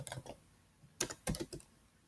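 Keys on a computer keyboard clatter while JavaScript code is typed, a few quiet scattered taps followed by two denser bursts of quick keystrokes, close and alone.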